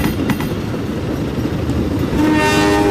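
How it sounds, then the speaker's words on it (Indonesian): A train in the Roblox Incorails game rumbles along steadily, and near the end a sustained horn blast rises over the rolling noise. "Kita klakson terus."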